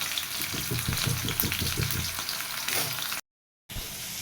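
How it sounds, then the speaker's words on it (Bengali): Potatoes sizzle in hot oil in a pan as a spatula scrapes and stirs in quick rhythmic strokes; the frying hiss cuts out abruptly for a moment near the end, then resumes. "এটা সুন্দর মতো ভাজা হয়ে যাবে"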